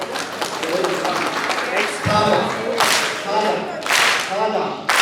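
An audience clapping in a hall, heard as short, loud bursts of applause with talking over and between them.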